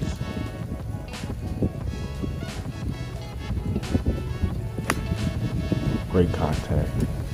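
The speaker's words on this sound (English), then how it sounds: "the wind was pretty strong" Strong gusting wind buffets the microphone on a golf course, a constant roar with bursts of louder rumble and a few faint knocks and clicks in the mix.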